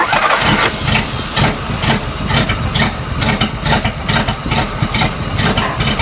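A 1941 Chrysler flathead engine in a coupe cranks and fires unevenly on only a couple of cylinders, a rough, sputtering mid-pitched churn with hissing, loud and steady throughout.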